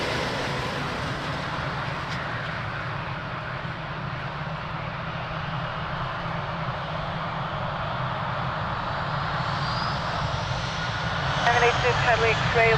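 A jet airliner takes off from runway 02 at Lisbon Airport as a steady, loud engine roar that holds throughout and grows a little toward the end. Faint radio voices can be heard under the roar.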